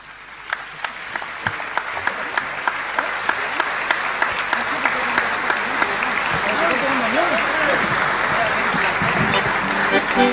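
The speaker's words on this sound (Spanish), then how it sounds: "vamos a brindar un fuerte aplauso para Marcelo Benítez" Sustained audience applause at a tribute evening, a steady wash of clapping from a large crowd that builds slightly and continues throughout.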